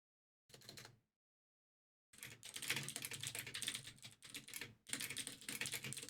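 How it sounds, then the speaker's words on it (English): Rapid clicky typing on a computer keyboard, close and crisp, with a short burst followed by a pause and then longer runs of steady keystrokes, no voices. "Oh my God, this is such a fun clicky keyboard."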